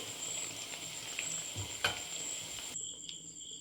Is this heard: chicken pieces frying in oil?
yes